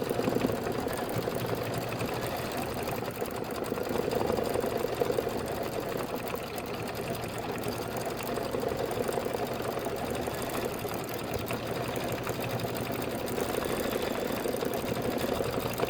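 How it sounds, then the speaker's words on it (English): An embroidery sewing machine stitches a tack-down and detail design, its dense, steady mechanical hum and rapid needle chatter running close and unbroken throughout with no voices. "this is going to be 3 minutes of stitching"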